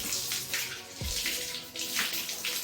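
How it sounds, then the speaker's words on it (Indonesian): Hands are washed under running tap water, a steady close rush and splash that continues without a break, with small shifts as the hands move through the stream. "yaitu mencuci tangan dengan menggunakan air mengalir"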